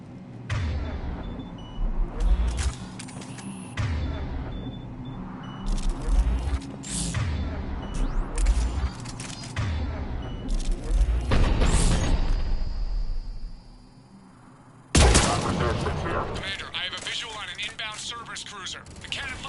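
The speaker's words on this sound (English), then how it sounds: "The cannon fire is clearing the way." Cannon fire and gunfire rage in a Mass Effect 3 combat scene, with loud repeated blasts and bursts throughout, a brief lull near the end, then renewed heavy firing.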